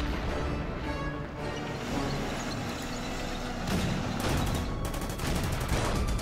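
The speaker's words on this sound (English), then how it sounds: "Let's use some artillery on that one." Artillery fire in the wargame Order of Battle: Endsieg. Dense, continuous crackling bursts of shelling and gunfire keep a steady roar throughout, with sharper clustered volleys near the end.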